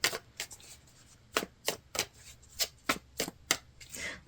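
Tarot cards being shuffled by hand, a series of close, crisp riffling bursts, each about a third of a second, at an uneven pace with brief pauses between.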